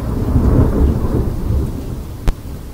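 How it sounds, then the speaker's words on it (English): Heavy rain pours steadily as a deep, loud roll of thunder rumbles and slowly fades. A brief sharp crack or knock sounds near the end, and nobody speaks. "I love a bit of thunder."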